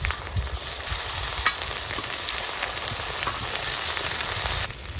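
Tomatoes fry on a hot tawa for a village-style mutton fry, making a constant, dense sizzle with faint crackles that stays even throughout.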